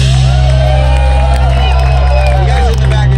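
Street crowd at Fisherman's Wharf in San Francisco cheering and whooping for a one-man-band street performer, loud shouts over a constant low drone of the performer's music, with voices mixed in throughout.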